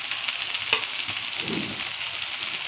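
Curry leaves sizzle in hot oil for a village-style South Indian fish curry, a steady bright crackle throughout with a sharp pop near the start and a low stir midway.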